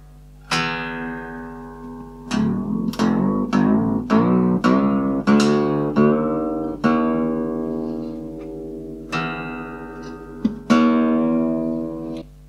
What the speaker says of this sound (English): for now, I'll play a low E